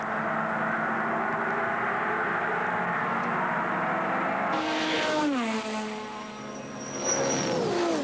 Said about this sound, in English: You'll hear the cars whistling past our static camera. Just listen to the exhaust roar.